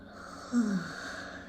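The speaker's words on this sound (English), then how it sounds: "I got another big yawn the moment I said that I had a big yawn." A big, drawn-out yawn during a calm group breathwork session: a brief, soft voiced sigh that rises and falls, heard close but quietly over low room hiss, with no talking.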